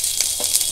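Panch phoron and two dry red chillies hitting hot oil in a pan after small prawns were fried, a brief bright hiss with faint crackles, close by and alone.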